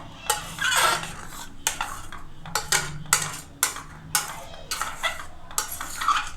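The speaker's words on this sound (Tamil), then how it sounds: "இப்போ இதை நல்லா கலந்துக்கலாம்" A spoon scraping and clinking against a metal pot in repeated strokes, a thick baby corn masala gravy being stirred steadily, close up.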